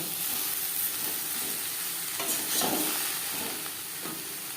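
Ridge gourd and pointed gourd fry in a pan with onion and chilli, a steady close sizzle under intermittent scraping stirs, with no talk.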